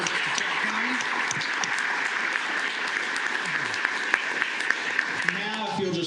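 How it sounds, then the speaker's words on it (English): A large audience at a county commissioners court meeting gives a sustained, even round of applause with many hands clapping together, while faint voices murmur underneath. "a big round of applause"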